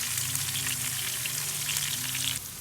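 Peppers and onions cooking on a Big Green Egg grill as part of steak fajitas, a soft, steady sizzle heard close and alone, dropping slightly at the end.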